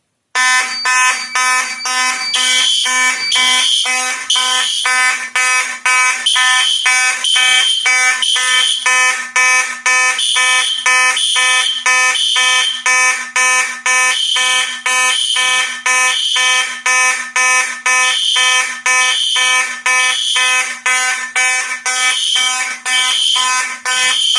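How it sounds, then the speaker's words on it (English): Loud old mechanical fire alarm horns blare continuously, a harsh ringing buzz with a steady pulsing rhythm that fills the whole stretch without pause. "these old mechanic horns, it puts up a good old fight against these loud electronic horns"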